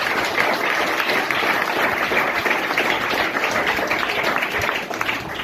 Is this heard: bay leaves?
no